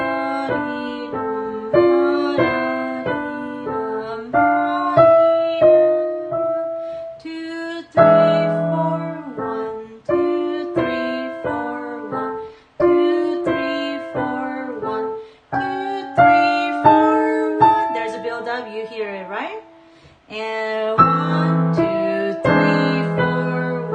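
A solo piano plays just the important right-hand notes of Burgmuller's Farewell, a lyrical melody in clear, phrased notes with slight swells and short pauses between phrases.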